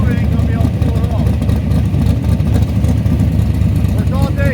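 A Chevrolet Nova's engine idles loudly and close with a steady low rumble, while someone talks over it.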